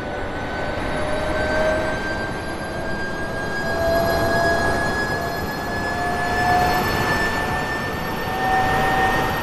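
A continuous high-speed train rumble in the video game TWS, with a faint rising electric whine, steady and fairly loud throughout, with no voices.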